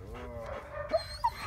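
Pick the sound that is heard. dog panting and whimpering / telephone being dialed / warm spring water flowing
dog panting and whimpering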